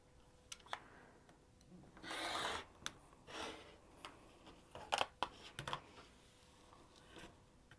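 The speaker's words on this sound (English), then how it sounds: "I'm going to rotary cut that fold, and I'm just going to take my ruler and line it up and just nip that last bit of the fold" Rotary cutter slicing through the fold of quilt binding fabric against a ruler, a few short soft scraping cuts with small clicks and taps between them, close and quiet.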